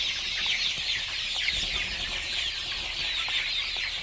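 Young chickens chirp and cluck continuously in a dense, busy chorus around a red feeder on a small poultry farm, steady and fairly close with no talking.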